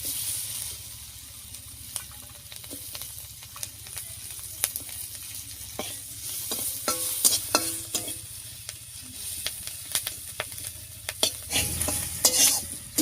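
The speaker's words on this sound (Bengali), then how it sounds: "মাছটা ভাজা হয়ে গেছে, এবার এর মধ্যে দিয়ে দিচ্ছি থেতো করা রসুন আর বেশ কয়েকটা কাঁচা লঙ্কা" Dried fish sizzles quietly in a pan with crushed garlic and slit green chilies, with sharp scrapes and taps of a spatula stirring throughout and a brief louder burst near the end.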